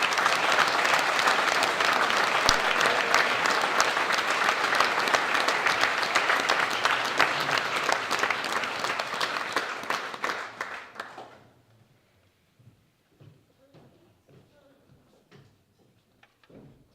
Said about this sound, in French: Je vous demande d'applaudir très fort à la 6e place, Martine Flamme.